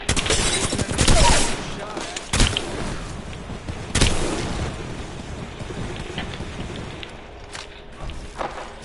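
Video game combat with a grenade explosion, sharp bursts and blasts around one, two and a half and four seconds amid scattered crackling gunfire and debris, loudness fading toward the end, with no talking.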